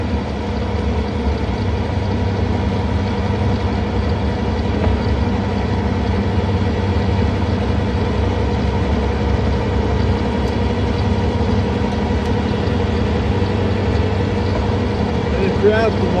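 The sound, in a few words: skid steer running with snow blower attachment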